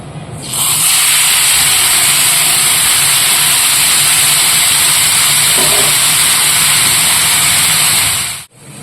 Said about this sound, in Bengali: চলুন মাছটা ভেজে নিই তো তেল গরম হয়ে গেছে